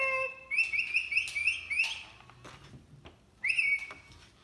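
A fur-Real Rock-A-Too toy parrot squawks and chirps in bright electronic bursts, a run of rising squawks followed by a pause and one more burst, close and loud over faint room noise.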